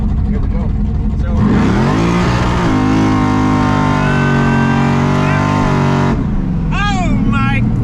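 Muscle car engine revving and accelerating hard to warm up its tires, a loud rising roar with shifting pitch that holds steady most of the clip, then falls away as someone talks.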